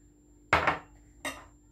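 A utensil clinks and scrapes in a bowl while flour, salt and pepper are mixed with crushed cereal for a KFC-style chicken coating: two short clattering bursts, the first longer, close and moderately loud.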